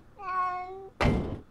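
A cat in the video game Stalin Subway Red Veil lets out one clear, drawn-out meow, followed at once by a loud thud, like a knock or door bump.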